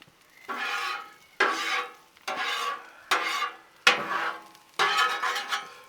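Six rough scraping strokes of a metal spatula across a hot, oily Blackstone griddle, evenly paced, with a faint sizzle between them.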